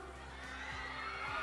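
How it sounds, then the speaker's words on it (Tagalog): Crowd at an outdoor gathering with people shouting and cheering in the distance, a faint, continuous mix of raised voices. "May sumisigaw banda doon eh."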